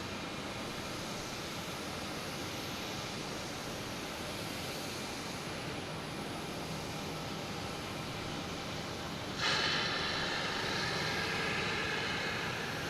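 A JetBlue jet arriving from Salt Lake City at Boston Logan rumbles with a steady, fairly faint broadband roar that swells slightly louder near the end.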